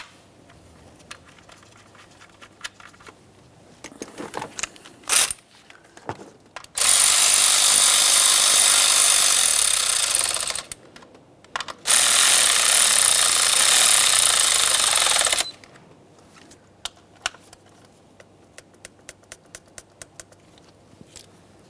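A power tool runs on a 10mm mounting bolt securing an ignition coil on a 2012-2018 Nissan Maxima 3.5L V6, in two steady bursts of about four seconds each, loud and close, with quiet handling noises between.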